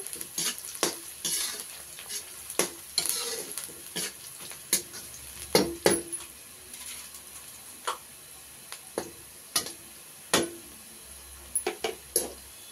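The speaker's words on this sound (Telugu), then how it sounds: "ఈ ఉల్లిగడ్డ మాడకూడదండి. ఇలా అప్పుడప్పుడు కలుపుకుంటా మాడకుండా చూసుకోవాలండి." Onions sizzle in a pan under a steady hiss, punctuated by sharp intermittent scrapes and clinks of a spatula as they are stirred now and then.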